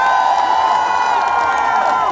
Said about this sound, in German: Applaus für Kerstin!